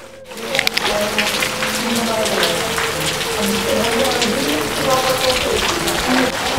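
Steady rain hisses and patters on a surface throughout, with muffled voices faintly underneath.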